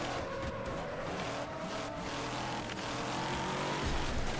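A monster truck buggy in the racing game Wreckfest, a steady loud engine roar with rumbling tires that never lets up as it drives through obstacles.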